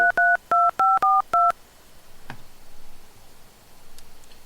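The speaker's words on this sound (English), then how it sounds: "So I'm going to go ahead and dial a number." A softphone dialer plays six short, evenly spaced DTMF keypad tones in a quick burst, each a clean dual-pitch beep, followed by a faint click and quiet room hiss.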